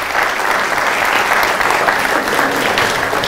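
Audience applause at a religious lecture, a dense, steady burst of many hands clapping, loud and close, lasting a few seconds without a break.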